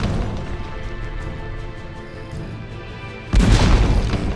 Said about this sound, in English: Blast them a couple of times with the cannon.